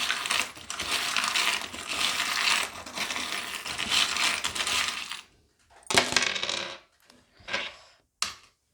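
Small charms tumbling onto a divination charm board, a long continuous clattering rattle that stops abruptly, followed by several shorter scattered bursts of clinking, loud and close.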